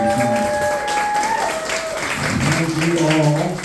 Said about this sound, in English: give another round of applause for Taga and CMJ.